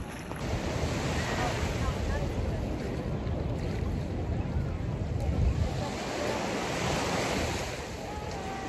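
Waves and surf washing steadily onto a warm beach near a lagoon, a continuous roar with heavy wind buffeting the microphone.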